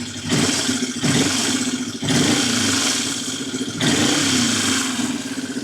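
A Yamaha XS 250 motorcycle engine, a classic Japanese bike with vacuum gauges fitted to the intake manifold, revs repeatedly in short surges over a steady idle, close and fairly loud, with no talking.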